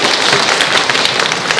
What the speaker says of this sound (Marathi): टाळ्या वाजल्या सगळ्यांना.